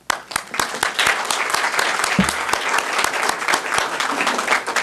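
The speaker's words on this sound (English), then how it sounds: "give a good hand of applause for these men and women here" Dense, sustained applause from a large audience at a BOMA gathering, loud and even throughout with a few sharper claps standing out near the front.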